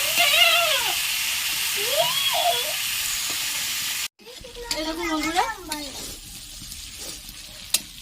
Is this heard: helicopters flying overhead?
no